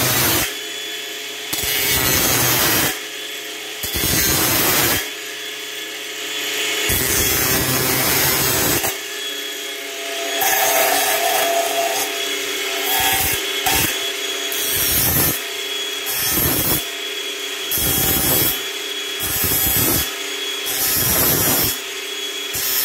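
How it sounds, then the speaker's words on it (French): A PVC toilet drain pipe being sawn and filed during a wall-hung SIAMP toilet installation, with loud, rhythmic rasping strokes that come in bursts separated by short pauses, close up and with no talking. "Donc, il faut le limer toujours sur le côté pour que ça glisse facilement au niveau des joints."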